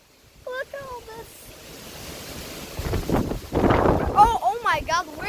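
Strong wind blowing outdoors as a storm approaches, a broad roaring rush that builds to loud gusts in the second half, with a person talking and exclaiming over it.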